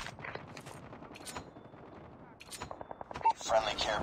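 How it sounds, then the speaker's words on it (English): Automatic sentry gun firing in the Call of Duty Mobile video game, loud rapid bursts of gunfire that grow denser toward the end, under game voice callouts and battle noise. "Sentry gun deployed."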